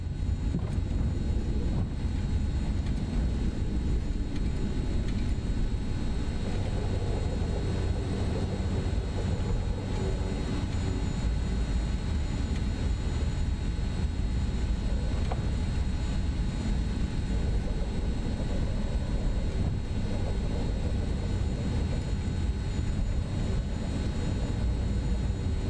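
SimWorks Kodiak 100 turboprop taxiing in Microsoft Flight Simulator 2024 at Minneapolis, a steady low engine drone with airy wind-like hiss running evenly throughout, close and constant without talk.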